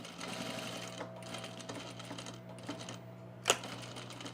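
A sewing machine stitches a fleece pullover near its zipper slit in a steady, quiet, continuous whir, with a single sharp click near the end and no talking.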